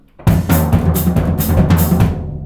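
Drum kit playing a rhythm, a loud, close, steady pattern of tom and bass drum hits under washing cymbals, continuous from start to end.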